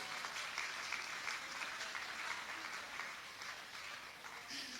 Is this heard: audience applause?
yes